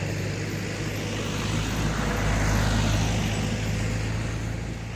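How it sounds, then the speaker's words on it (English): A truck rolls past on a road near a quiet rural property, a broad steady engine and road roar that swells toward the middle and eases off, heard alone without speech. "There's a truck going to pass by right now."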